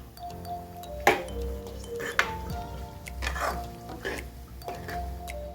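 Mango pickle is stirred in a pan, a utensil clinking against the metal every second or so in a loose rhythm, with a faint steady hum underneath and no talking.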